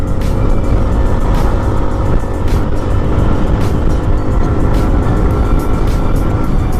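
A Rusi Adventure X 150i scooter accelerates uphill under throttle, a loud, continuous, steady engine roar heavily mixed with rushing wind, with no speech.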